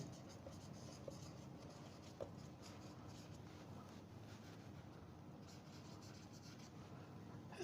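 A pen writing out notes during a chemistry lesson on acids and bases, a faint continuous scratching and rubbing over low room noise, no talking.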